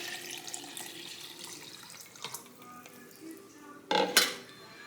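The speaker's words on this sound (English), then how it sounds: "Now we're adding water." Water poured into a pot for meatball soup in a kitchen, a quiet trickle with light clinks of cookware, then a louder splashing burst near the end.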